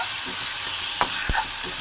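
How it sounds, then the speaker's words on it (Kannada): A spoon stirs salt and turmeric into a sizzling pan for sambar, with a steady close frying hiss throughout and two sharp scraping clinks near the end. "ಇದೆಲ್ಲ ಒಂದ್ಸಲ ಮಿಕ್ಸ್ ಮಾಡ್ಕೊಳ್ಳೋಣ."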